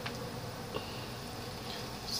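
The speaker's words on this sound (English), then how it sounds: "Cicada." A cicada buzzes steadily outdoors in July, a continuous high insect drone filling the background with faint chirps on top, no talking.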